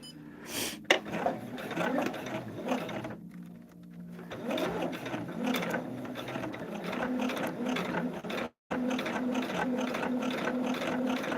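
A home sewing machine stitching a seam on a table runner, running steadily close by with a fast mechanical rattle, stopping briefly twice before starting up again.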